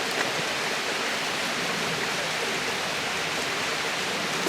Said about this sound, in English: Water dripping.